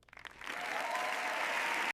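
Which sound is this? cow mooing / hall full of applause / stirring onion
hall full of applause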